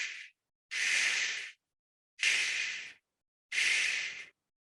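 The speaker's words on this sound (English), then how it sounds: "that's actually electrical signals in your brain that have been converted to sound just so you could hear it" Deep-sleep brain slow waves converted to sound form four soft, breathy whooshing pulses. Each lasts under a second and they repeat at a slow, even interval with silence between them.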